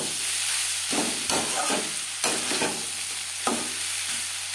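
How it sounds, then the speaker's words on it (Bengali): Mashed boiled potato being stirred together with onion, tomato and peas in a hot pan: a continuous sizzle broken by several scraping stirs and soft thumps of the spoon, close and moderately loud. "পেঁয়াজ, টমেটো ও মটরশুঁটির সাথে আলু বেশ ভালো করে মিক্স করে দেবো"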